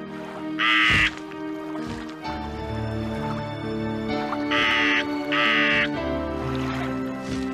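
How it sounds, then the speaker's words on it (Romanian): A raven in an animated Bible cartoon of Noah's ark gives several loud, harsh caws in separate bursts, close and prominent over a soft musical score. "Corbul a zburat departe,"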